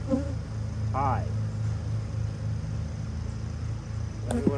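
Honey bees hum at an open, honeyless hive during an inspection, a steady low drone running close under the whole stretch, with a person speaking briefly near the start and again near the end.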